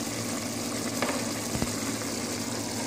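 Minced meat fries in a pan as tomatoes go in, a steady hissing sizzle with a couple of brief clunks and a burst of added moisture crackle, close and moderately loud.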